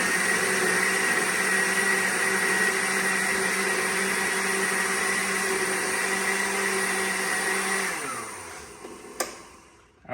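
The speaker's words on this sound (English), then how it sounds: "I will never own another blender that lasts as long as this one" A blender whirs loudly and steadily for several seconds, then winds down with a falling pitch and clicks off.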